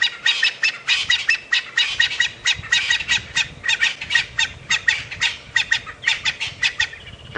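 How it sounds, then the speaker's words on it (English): Natal spurfowl call raucously during an evening safari drive, a dense run of loud, harsh, rapidly repeated squawking bursts that carry on for the whole stretch with no talking. "Natal Spurfowl joining in with their raucous shouting."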